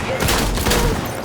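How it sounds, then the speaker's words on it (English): Dense, loud rapid gunfire crackles throughout a short burst of combat in the game Death Stranding Director's Cut on PS5. "Taking fire."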